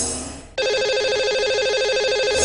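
A telephone starts ringing partway through, a loud, steady warbling ring tone on an outgoing call to a lucky caller on a radio-style show, with no voices over it.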